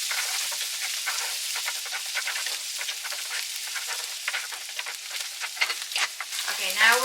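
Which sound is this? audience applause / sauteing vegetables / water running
sauteing vegetables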